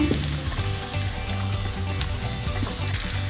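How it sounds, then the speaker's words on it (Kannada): Onions frying in a pan with cooked greens and gram being added, a steady dense sizzle with light stirring scrapes, close and continuous with no talking. "ನೋಡಿ ಈರುಳ್ಳಿ ಎಲ್ಲ ಕೆಂಪಾಗಿ ಹಾಕ್ತಾ ಇದೆ ಇನ್ನು ಸ್ವಲ್ಪ ಫ್ರೈ ಆಗಲಿ"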